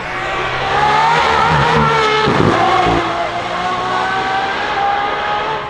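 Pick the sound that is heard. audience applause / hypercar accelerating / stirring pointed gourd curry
hypercar accelerating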